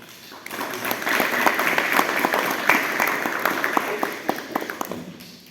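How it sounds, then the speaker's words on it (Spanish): A welcoming round of applause for a speaker who is a titular member of the Peruvian Society of Legal Medicine, dense crowd clapping sustained at steady loudness for several seconds, tapering at the end. "por favor, un fuerte aplauso"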